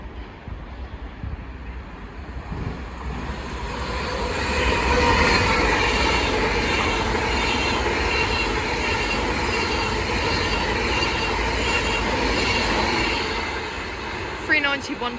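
An Avanti West Coast Class 390 Pendolino, running from London Euston to Glasgow Central, passes through Stafford station, a broad rushing roar that swells, holds loudly for several seconds with faint wheel squeal, then eases at the end.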